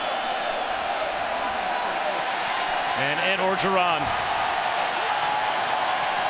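Football stadium crowd at a BYU versus LSU game, a steady broad roar of cheering filling the whole stretch, with a commentator's voice talking over it.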